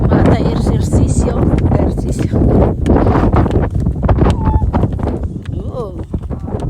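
Strong wind at Hoover Dam buffets the microphone in loud, gusty rushes while people chat casually nearby.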